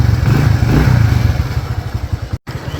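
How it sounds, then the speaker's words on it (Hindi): A motorcycle in a rural South Punjab village runs loud and close with a steady, chugging engine putter that continues throughout, broken once by a brief dropout near the end. "बिस्मिल्लाह पढ़कर मोटरसाइकिल स्टार्ट करेंगे"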